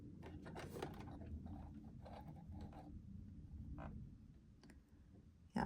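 A home sewing machine stitches a quarter-inch seam on a slip dress, giving quiet bursts of rapid clicking and whirring with brief stops between runs, faint against a soft room background.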